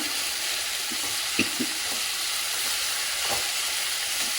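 Onions browning in a pan for a Punjabi-style spiced bottle gourd dish crackle in a steady, close sizzle, with a few soft clicks and scrapes scattered through, and nobody speaks.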